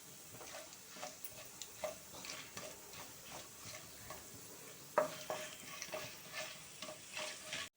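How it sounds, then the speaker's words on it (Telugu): A tempering of cumin seeds, black gram lentils, split lentils and dry red chillies fries in hot oil, steady soft sizzling with repeated light stirring taps and scrapes of a spoon against the pan, close and fairly quiet. "పోపు వేగింది"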